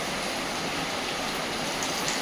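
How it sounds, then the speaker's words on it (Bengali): Heavy rain pours down at home in a dense, unbroken roar of broadband hiss, loud and steady for the whole short stretch with no voices. "সেই লেভেলের বৃষ্টি হচ্ছে বাড়িতে আজ, এত ভারী বৃষ্টি"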